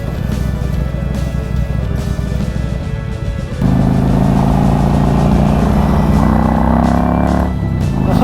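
A Harley-Davidson Sportster motorcycle passes on a spring country road in southern Alberta, its engine note swelling and growing louder midway through, then holding steady before easing slightly as it goes by.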